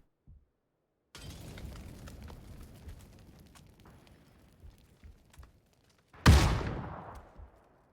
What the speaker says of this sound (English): A bunch of nades coming out.